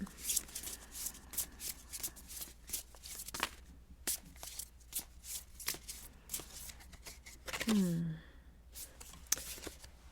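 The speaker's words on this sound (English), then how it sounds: "So I've got a bunch of the cards in my hands. We're just going to shuffle until one pops out" Cards riffled and shuffled in crisp, repeated bursts of rapid flicking, close up, with a brief breathy sigh partway through.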